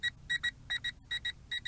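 A Potensic D58 drone controller gives low-battery warning beeps, about ten short, high electronic tones in uneven pairs and triplets, clear against quiet background hiss.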